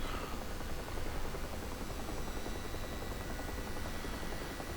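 A helicopter flying low over the Normandy 1944 map in the DCS flight simulator gives a steady, dense rotor and engine roar that holds an even level throughout, with no voices.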